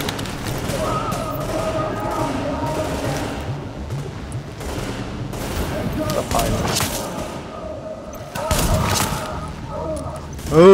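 Gunfire crackles through a firefight in The Division, with shotgun blasts mixed into a steady stream of shots and thuds, and players talk over the battle.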